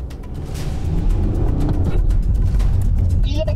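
A BMW X4 M Sport 2.0d xDrive with 190 horsepower drives along with a loud, steady engine and road rumble that swells early on, while people talk over it.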